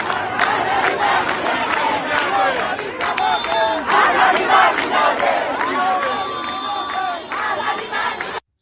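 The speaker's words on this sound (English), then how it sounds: "people are chanting Pahlavi barmigerde." Large protest crowd in Kerman chanting slogans in loud, sustained unison, with shouts, whistles and cheers rising over the massed voices throughout.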